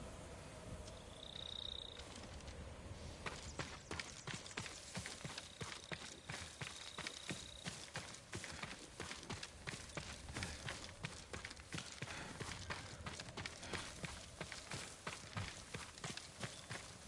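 Horse hooves gallop steadily in the video game Ghost of Tsushima, a fast rhythmic run of thuds over outdoor ambience, moderately close and continuous.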